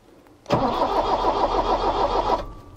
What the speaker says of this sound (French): Si je contacte ces deux fils, je peux faire tourner le démarreur.